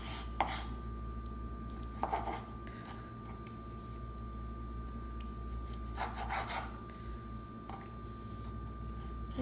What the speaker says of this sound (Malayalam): ഈ തക്കാളിയുടെ അകത്ത് അരിയെല്ലാം ഒന്ന് മാറ്റിയ ശേഷം ചെറുതായിട്ട് അരിഞ്ഞു വയ്ക്കാം